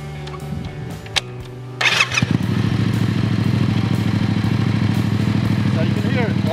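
Close by, a 2017 Yamaha MT-07 Tracer motorcycle engine with an aftermarket exhaust cranks, catches and starts, then settles into a steady thumping idle with light mechanical clatter.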